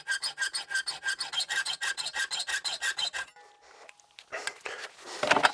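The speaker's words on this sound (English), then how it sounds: "we're just going to grab the hacksaw and just slot out that hole to the top" A hand hacksaw cuts a slot into a hole in a metal bracket held in a bench vise, giving a steady run of about fifteen quick rasping back-and-forth strokes up close, then a pause and some fainter scraping and handling noises.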